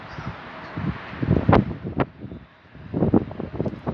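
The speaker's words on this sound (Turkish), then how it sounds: "Arkadaşlar şu an çok rüzgar var" Strong wind buffeting a microphone outdoors, with rumbling gusts that swell and fade, a few sharp bumps, and a brief lull midway.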